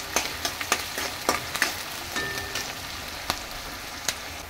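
Onion sizzles in a pan with bay leaf and cumin seeds: soft, faint crackling with scattered sharp pops and no voices.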